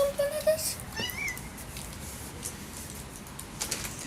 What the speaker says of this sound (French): Mais regarde mon chat, il veut manger les empanadas.